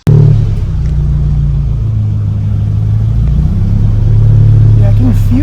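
A Nissan 240SX with a poly transmission mount drives on a test run, its engine and road noise forming a loud, steady rumbling drone inside the cabin, with a slight rise in pitch toward the end.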